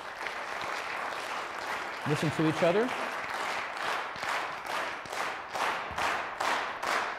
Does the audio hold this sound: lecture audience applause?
yes